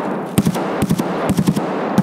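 Rapid automatic gunfire in Escape From Tarkov, several quick bursts of sharp, punchy shots in close succession, loud and near with no talk.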